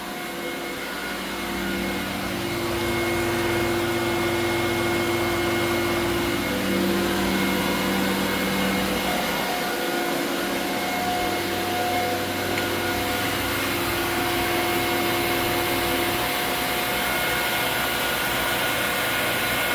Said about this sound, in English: that's the coolant system